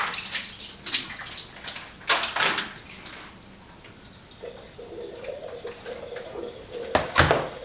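Water from an opened tofu packet drains over a kitchen sink, with intermittent splashes, trickling and crinkling packaging sounds, close and moderately loud.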